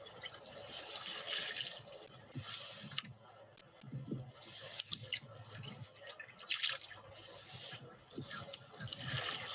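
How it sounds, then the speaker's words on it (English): Water is sloshed back and forth in a rinsing tray outdoors on a shore, giving faint, repeated splashing swells with small drips and clicks between them. "Moving the water back and forth."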